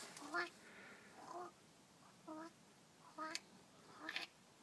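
A voice mimics a big black crow's cawing, with about five short, harsh calls spaced a second or so apart, fairly close and moderately loud.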